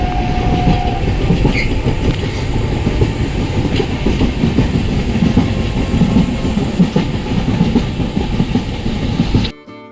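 Podhigai superfast express train running on rails between Sengottai and Tenkasi at about 60 km/h, a loud steady rumble and rattle of wheels and carriages heard from inside, with faint squeals, continuous until an abrupt cutoff.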